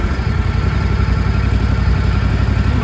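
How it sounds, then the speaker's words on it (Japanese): A small remote-control mower engine idles steadily nearby at about 1300 to 1400 rpm, a constant low throbbing chug with no talking. "今エンジンかかったので"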